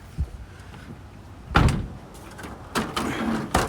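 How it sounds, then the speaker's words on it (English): A vehicle's back door is shut, giving a solid slam followed by a couple of shorter knocks and latch clunks, close up with no talking. "close this back door."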